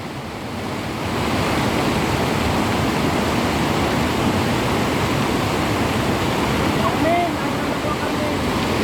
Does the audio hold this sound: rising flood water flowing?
yes